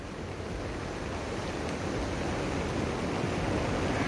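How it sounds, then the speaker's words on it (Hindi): Rough sea surges at the Digha coast in Bengal before Cyclone Yaas, heard as a steady, loud wash of surf and wind noise with no break. "यहां पर समुद्र अभी से उफान पर है।"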